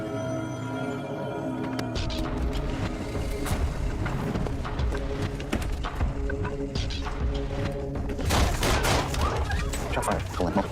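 Multiple gunshots ring out in dense, irregular bursts of sharp cracks, growing heavier toward the end, against a busy mechanical background.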